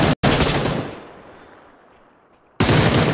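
Bolt-action sniper rifle fire in a multiplayer video game: two loud, sharp shots a couple of seconds apart, the first trailing into a long, fading rumble of echo.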